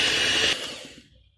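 An electric mixer whirs loudly through warm marshmallow mixture while making marshmallows, a steady motor drone that drops in level halfway through and fades toward quiet.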